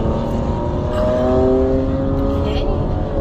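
Sports cars racing along a highway give off a loud, continuous engine roar with rising tonal whines as they accelerate, heard close by from inside a moving vehicle.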